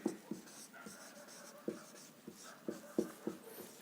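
Pen or chalk writing by hand during a Hindi-language physics lesson, a series of short scratchy strokes in an irregular rhythm, close and fairly quiet with no talk.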